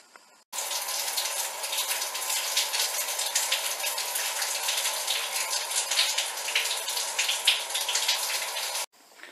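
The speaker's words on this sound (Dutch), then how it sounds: "Dus ik ga even lekker douchen." A shower runs in a steady, dense rush of falling water for about eight seconds, cutting in abruptly and stopping sharply, close and without talk.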